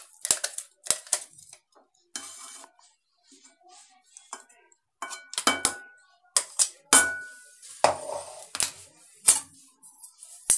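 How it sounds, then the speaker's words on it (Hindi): Lemon pulp for a sweet, sour and spicy lemon pickle is scraped into a kadhai with a spoon: a run of sharp metallic clinks and taps, some close and loud, with short quiet gaps between them. "नींबू का ये जो पल्प है इसको हम कढ़ाही में डाल दिए"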